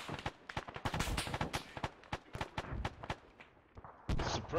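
Machine gun fire echoes through an Arma 3 battle, with rapid bursts of cracking shots and a couple of heavier booms heard at a moderate distance, fairly faint overall.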